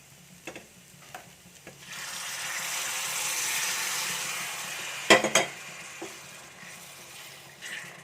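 Cooked beef is stirred and fried in a pan, a soft sizzle that swells midway, with occasional sharp clinks and scrapes of a utensil against the pan.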